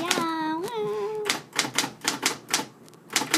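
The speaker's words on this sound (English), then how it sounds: "We got a typewriter." Typewriter keys strike in a quick, uneven run of loud, close clacks, preceded by a brief tonal squeal, with a voice faintly present.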